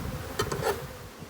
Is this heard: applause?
no